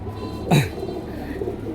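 Domestic white pigeons give a soft, close coo at the start, then low murmuring coos over a quiet background hum, with no talk.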